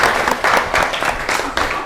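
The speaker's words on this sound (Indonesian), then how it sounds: "berikan aplaus" Classroom audience applause at an accounting teaching-practice session: a short burst of hand clapping from a group of people, fairly close, with no talk over it.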